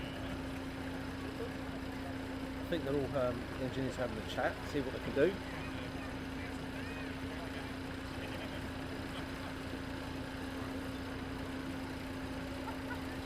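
A Skymaster aircraft's piston engine runs in a steady, droning hum at a constant pitch throughout, heard from nearby as people talk briefly over it.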